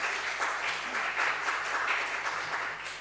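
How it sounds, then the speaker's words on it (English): Applause rings out in a council chamber during a full council meeting. The clapping is soft and distant, a steady patter that holds for a few seconds and then fades slightly. "And thank you very much for the applause."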